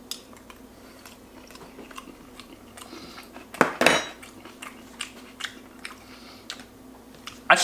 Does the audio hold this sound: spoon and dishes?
yes